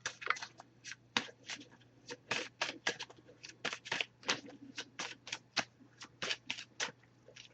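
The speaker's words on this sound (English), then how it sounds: "I'm just going to give this a few shuffles." An oracle card deck shuffled by hand, a quick irregular series of crisp riffling and slapping card sounds, close and fairly quiet, with no talking.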